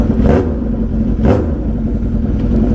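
A 2007 Suzuki Hayabusa stretched motorcycle idles loudly up close, its steady throaty rumble lifted by two short throttle blips that rise and fall.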